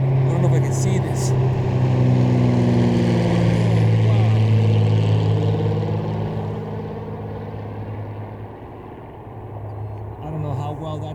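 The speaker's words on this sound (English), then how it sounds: "Oh, there's another plane coming." A passing airplane roars low and loud directly overhead, a steady engine drone that swells, then slowly fades over several seconds with no talking.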